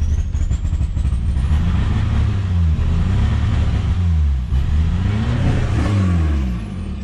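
A Volkswagen Golf 3 GT 110 engine pulls hard at full throttle, its loud, close drone climbing in pitch, dipping briefly at a shift, then rising again.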